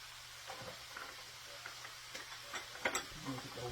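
Philly slider filling cooks in a pan with a faint, steady sizzle and occasional soft stirring clicks, quiet and close throughout.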